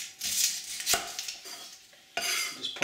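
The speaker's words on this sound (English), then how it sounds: "I trim either end of the onion" A knife slices off both ends of an onion on a cutting board, with a couple of crisp, close chops amid light clatter.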